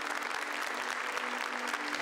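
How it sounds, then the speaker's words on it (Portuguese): Church audience applauding during a sermon, a dense, steady burst of many hands clapping that holds at even loudness throughout. "Então você pode aplaudir essa obra de Deus."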